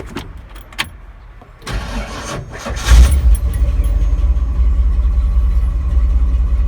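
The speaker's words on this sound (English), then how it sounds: "Sounds weird because those little starters do sound weird" Ford 351 engine fitted with a small upgraded starter, a few faint clicks, then a whirring crank that catches into a loud, steady idle.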